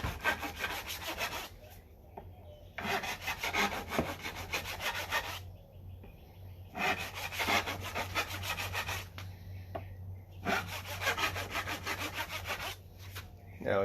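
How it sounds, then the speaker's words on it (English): A hand saw cuts across a wooden guitar fingerboard to shape its radius, close and rhythmic strokes in bursts of several back-and-forth pulls, separated by short pauses, with a low hum underneath. "I should hear a little bit more sawing action, more of the teeth involved"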